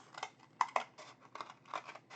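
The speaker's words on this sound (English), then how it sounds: "You can cut it with any scissors." Scissors snip through single wall cardboard in a quick run of close crunching cuts, several short bursts with brief pauses between them.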